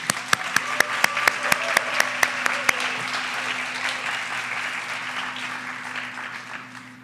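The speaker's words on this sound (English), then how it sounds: "can we give another round of applause for our 10 presenters tonight" An audience at a university Three Minute Thesis competition gives a steady round of applause for the presenters, with a few sharp, close claps standing out early before the crowd sound slowly fades; a low steady hum runs underneath.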